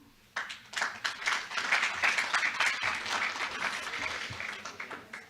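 An audience at a city hall candidate forum breaks into applause, starting abruptly and continuing as a lively clatter of many hands that gradually thins toward the end, close and fairly loud, with no talk.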